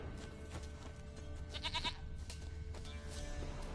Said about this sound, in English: I think we may have found the goat.